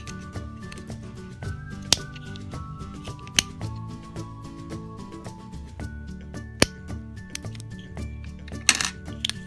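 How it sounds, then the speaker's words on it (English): Scissors snip through paper while a table-setting craft piece is trimmed, a run of quiet close crisp cuts and small clicks at an uneven pace, with no talking. "now we're going to turn our scissors this way and we're going to cut behind the chin area"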